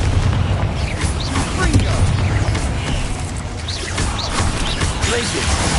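A Confringo fire blast spell cast in the video game Hogwarts Legacy, heard as a loud booming burst amid a dense wash of explosive crashes and game effects that fill the whole moment.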